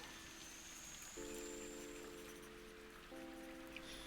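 Indoor rain in the puzzle game Viewfinder, a soft, steady patter of drops on surfaces, faint and continuous, with gentle sustained musical tones layered over it.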